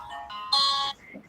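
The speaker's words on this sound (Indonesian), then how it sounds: "sebentar, ada telepon." Mobile phone ringtone chiming in a classroom, a short electronic melody that steps up in brightness and then cuts off after about a second, loud and close.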